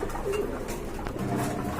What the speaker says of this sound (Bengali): এক জোড়া কবুতর মাত্র দুই হাজার টাকা